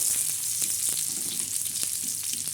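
Chopped onion sizzling steadily in a pan as it fries and browns for a spicy black-masala chicken curry, a continuous close frying hiss with faint stirring clicks and no talking.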